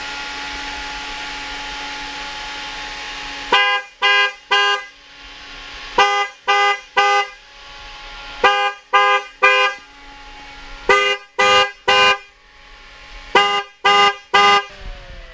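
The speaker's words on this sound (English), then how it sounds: "you did see the car horn go off" A police Ford Crown Victoria K9 unit's car horn honks as a safety alert in repeated bursts of three loud, close blasts, with short pauses between groups over a steady low hum.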